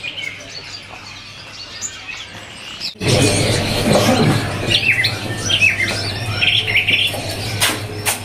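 A green leafbird sings loudly and close by with rich, varied chirps and warbling phrases, starting abruptly after a quieter stretch with faint calls.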